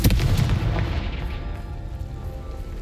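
A Confringo fire spell blasts in the Hogwarts Legacy video game, a single loud booming burst that decays into a rumbling roar over a few seconds.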